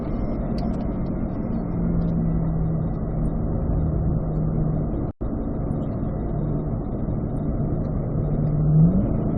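A 2024 Corvette Stingray Z51 engine drones steadily as it accelerates around a racetrack, its pitch rising slightly near the end, with a brief dropout partway through.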